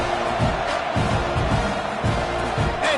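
Steady, dense stadium crowd noise from an American college football video game, Texas A&M hosting Penn State, a continuous broad roar with faint surges, running throughout before a kickoff.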